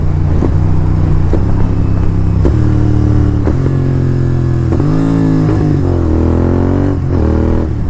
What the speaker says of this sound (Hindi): देखा डाउनशिफ्ट की आवाज़, वो जो बूम बूम करता है ना भाई